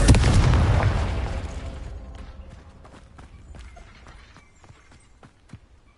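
A Confringo blasting spell explodes in the Hogwarts Legacy video game with one loud, deep boom at the start that decays slowly, followed by scattered light clicks and taps.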